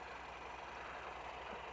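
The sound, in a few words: Honda NC700X motorcycle engine idling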